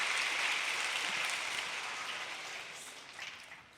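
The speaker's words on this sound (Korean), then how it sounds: "한 번 더 박수 한번 쳐주십시오" A church audience's applause, a broad wash of clapping that gradually fades away over a few seconds.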